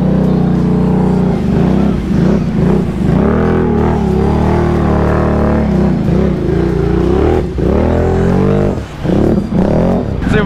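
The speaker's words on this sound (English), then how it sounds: "I do hear the belt squealing a little bit with these tires." A Can-Am Renegade ATV engine revs hard and steadily while crawling through sandy mud, its loud, close drone rising and falling in repeated surges, with a belt squeal mixed into the roar.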